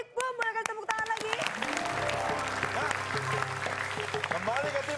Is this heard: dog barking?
no